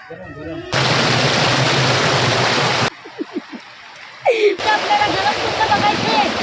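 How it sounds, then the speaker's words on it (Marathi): Water flows and splashes into cold water pools in Konkan, a loud steady rushing near the listener, broken by a brief quieter gap with a few sharp knocks before the roar returns. "हे थंड पाण्याचे कुंड आहेत"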